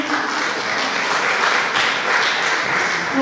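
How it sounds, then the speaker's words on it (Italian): Applause from an audience at a fashion show, a steady dense wash of many hands clapping, loud and continuous throughout with no talk over it. "Un applauso,"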